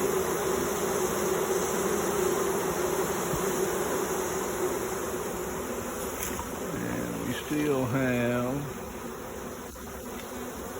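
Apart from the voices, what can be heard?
swarming honeybees buzzing and fanning at a hive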